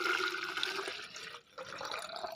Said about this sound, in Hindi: तो इसके अंदर पानी डाल दूँगा भाई,